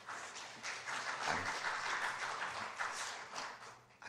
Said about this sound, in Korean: 박수까지 쳐주시니까 너무 쑥스럽네.